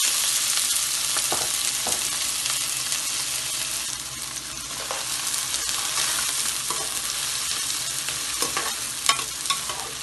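Food softening in hot oil sizzles steadily up close while a utensil stirs and scrapes the pan at intervals; no one speaks.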